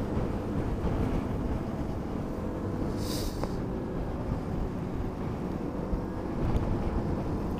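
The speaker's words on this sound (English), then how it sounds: "Quite windy up here." Strong wind gusting across a hilltop road, a loud, constant rumbling buffet against the microphone that lasts throughout.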